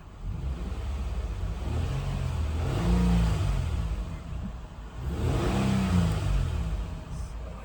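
A repaired car engine revs up twice, each rise swelling to a loud, steady roar before dropping back to a smooth idle, heard close up with no talking.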